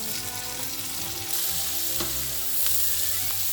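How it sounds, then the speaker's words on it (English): Pearl onions and carrots sautéing in a pan for a vegan mushroom bourguignon, a close, even sizzle with a couple of soft stirring scrapes and no voices. "Now we'll add the carrots and continue to saute for 45 minutes."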